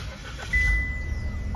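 A 2024 Chevrolet Onix RS engine starting, a brief low crank catching into a steady idle, heard from inside the car with no talk.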